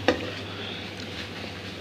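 A big spoon stirs rice frying in a pot, giving a steady soft sizzle with faint scraping, and one sharp knock of the spoon near the start.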